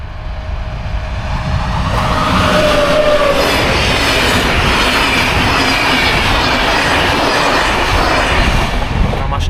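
A train rolls past close by at a level crossing in Hungary, a loud steady rumble of wheels and carriages building over the first two seconds and then holding, with a faint tone near the start.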